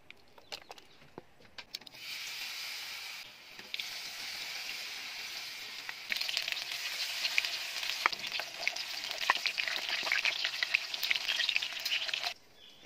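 Onion, garlic and tambis (water apple) fry in hot oil, a steady bright sizzle that starts after a couple of seconds, dips briefly, then swells louder and continues for about ten seconds before stopping, with occasional utensil clicks.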